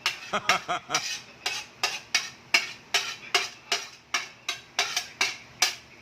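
A utensil scrapes and clinks against a metal pot while stirring noodles, a steady rhythm of about a dozen repeated strokes, close up with no talking.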